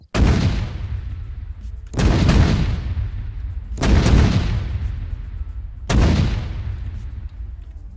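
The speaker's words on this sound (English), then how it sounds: "It's an artillery fire target." Four heavy artillery blasts in Arma 3, evenly spaced about two seconds apart, each a loud sharp boom that rolls off into a long fading rumble, close and with no voices over them.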